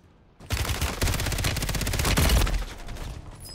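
Rapid automatic gunfire from a new weapon in Call of Duty Warzone, a dense, loud burst of repeated shots running nearly three seconds after a brief quiet start.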